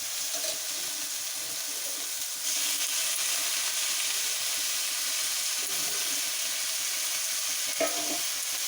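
Spinach sizzles and is stirred in a pan of frying spices for a Bengali matar palong shak dish, a steady soft crackle with scraping stirs and occasional louder clatters.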